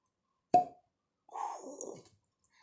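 A rubber stopper pulled from a bottle of Marcotte strawberry lemonade moonshine gives one short, close pop. A faint squeaky rubbing follows, then silence.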